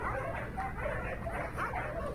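Several dogs on a farm bark and yip in a busy, overlapping chorus, fairly close, with whimpers mixed in among the barks.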